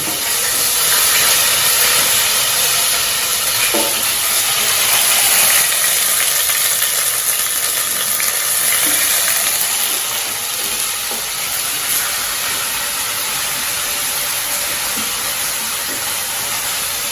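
Green chilies sizzle and fry steadily in a hot pan for a Tamil baby potato masala, a continuous broadband hiss with a few faint clicks and pops and no talking.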